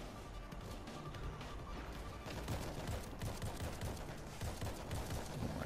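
Gunfire in the zombie shooter World War Z, a dense continuous barrage of rapid shots and crashing impacts that grows louder about halfway through, with no voices over it.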